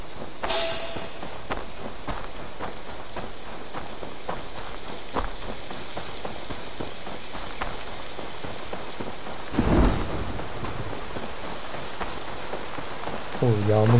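Steady rain pours throughout a game scene in Assassin's Creed Valhalla, a dense hiss of drops on surfaces with a louder gust or impact near the middle and a low rumble at the end.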